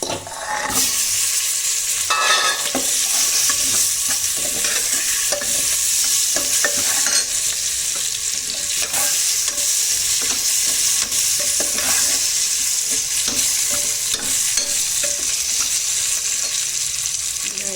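Potatoes sizzle loudly in a pan while being stirred, a dense continuous frying hiss broken by repeated scraping strokes of the spoon, close up and with no talking.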